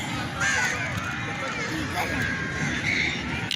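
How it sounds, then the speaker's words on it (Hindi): Many crows caw repeatedly at an outdoor winter tea festival, their harsh calls layered over steady crowd babble and background bustle. "और ये देखिए कितने ज़्यादा कौवे देख लें कितने ज़्यादा है।"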